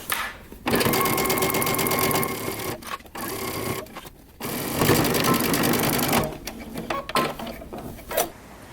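Sewing machine stitching a jacket seam, its rapid mechanical chatter running in several bursts with brief pauses between runs as the fabric is guided along, close and fairly loud.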